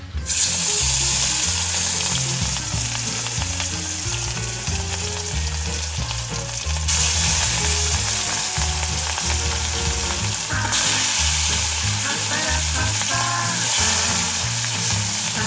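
Fish pieces fry in a wok of hot oil for a Bengali fish curry meal, a steady, loud crackling sizzle that runs unbroken throughout with no talking.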